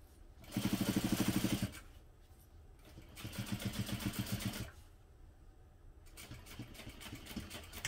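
A sewing machine top stitches a crossbody bag in several runs, each a rapid, steady mechanical chatter starting and stopping, near and clear with no talk.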